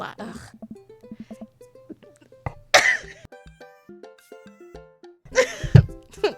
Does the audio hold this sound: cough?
yes